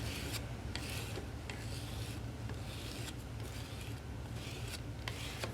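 Soft clay slab being smoothed by hand, a quiet, steady rasping and rubbing with a few sharper scraping strokes repeating roughly every second, close and alone without talk.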